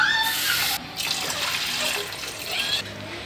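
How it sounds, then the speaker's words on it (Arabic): Water pours from a tap into a cooking pot holding cloves, star anise and onion for a home cough remedy, a loud, continuous gushing splash that briefly cuts off and resumes. "غادي نضيفوا دابا الماء."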